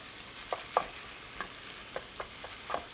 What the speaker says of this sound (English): Ground beef is sauteing.